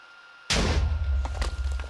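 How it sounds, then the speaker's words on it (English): A sudden explosion bursts out in a video game as fire burns through the area, a sharp loud boom followed by a rumbling tail with a couple of crackling pops. "There's another explosion."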